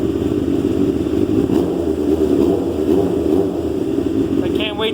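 A Banshee ZX7R 750cc motorcycle engine, cold and dirty, idles steadily at close range on its first start after four months, a continuous low rumble with little change in pitch throughout.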